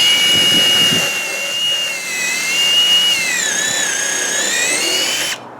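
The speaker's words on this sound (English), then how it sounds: "drill a very steep hole" A power drill with a countersink bit whines steadily at high pitch, its tone dipping briefly under load as it bores a steep pocket-screw hole, then cutting off abruptly at the end.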